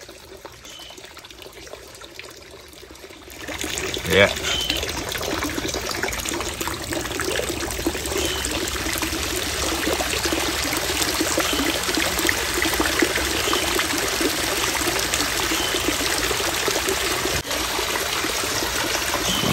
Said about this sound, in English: So I just turned back the pump on now, so the water gonna come up slowly.